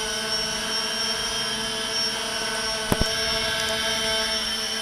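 A Walkera QR X350 Pro quadcopter's motors whine steadily nearby in a light outdoor breeze, holding even tonal hum throughout with a couple of brief clicks near the end.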